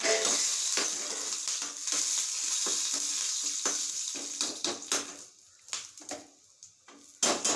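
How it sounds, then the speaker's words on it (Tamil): Dried red chillies sizzle and crackle in hot oil as a tempering for a brinjal pachadi. The frying is loud at first, then fades into sparser pops and spits. "எண்ணெய் காஞ்சிட்டு இந்த வரமிளகாய் போட்டுரும்."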